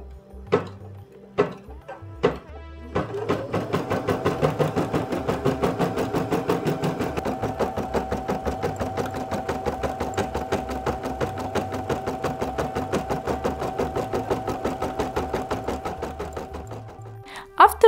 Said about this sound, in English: After the embroidery is done, unhoop and tear the wash-away stabilizer on top and cut the one on the back.